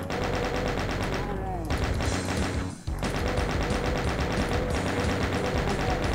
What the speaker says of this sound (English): Chain gunners, snipe.